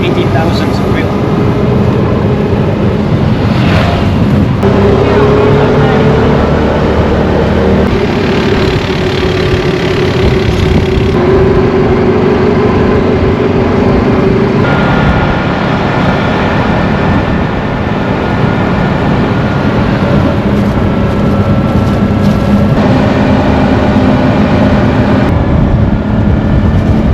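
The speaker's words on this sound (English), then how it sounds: "Now let's take a tuk-tuk taxi because it's a little bit outside the city center." A tuk-tuk taxi rides outside a city centre in Cambodia, its small engine droning loudly and continuously with shifting pitch and heavy road and wind rumble throughout.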